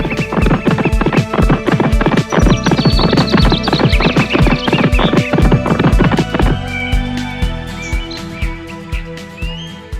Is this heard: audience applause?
no